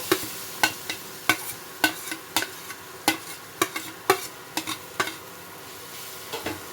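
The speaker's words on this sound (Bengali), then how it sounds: "এই গ্রেট করা আমটা দিয়ে দেব।" Grated raw mango is stirred in a hot wok: sharp, regular spatula scrapes and knocks ring out roughly every half second over a faint sizzle, close and clear with no talk.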